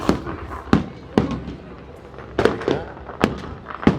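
New Year fireworks burst over Pattaya, Thailand, in a loud, irregular series of sharp booms and cracks, roughly a dozen blasts in quick succession with crackling and rumbling echoes between them.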